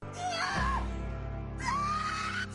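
A woman's shrill, wavering scream from a scene in the film The Twilight Saga: New Moon, two long loud cries separated by a short gap, the second rising in pitch, with no talk over them.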